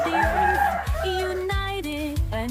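Chickens at an egg-laying farm of about 1,200 head, with near, loud rooster crowing and clucking calls that come one after another.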